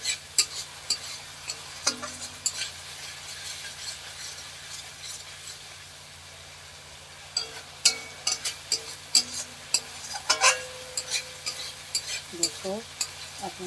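Meat and spice paste bubbling in a pan, stirred with scraping, clattering spoon strokes in bursts, a quieter stretch midway, close and fairly loud.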